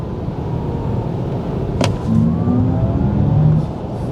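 An Audi e-tron GT RS interior hum with a brief sharp click, then a low synthetic fake engine tone in dynamic mode rising in pitch as the car accelerates, steady and moderately loud.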